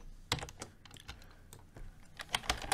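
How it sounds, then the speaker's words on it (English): Fast, uneven typing on a computer keyboard during a coding session, with close, crisp key clicks arriving in short bursts and a few louder keystrokes near the end; no voices. "The Rockstar keyboard."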